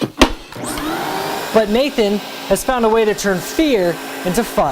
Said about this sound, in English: He got this shiny new vacuum a couple weeks ago.